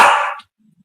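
One sharp, close bark from a household dog reacting to a nearby coyote, ending abruptly with faint low sounds after.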